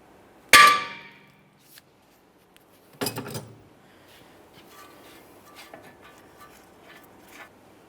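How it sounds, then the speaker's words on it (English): Metal tapping on the steering knuckle of a 2013-2020 Ford Fusion to break it free rings out as one sharp clang, followed later by a short cluster of strikes, then quieter scattered clinks in a workshop. "I'm going to tap on the knuckle here, attempting to break this free"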